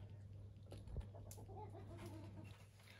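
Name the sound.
roosters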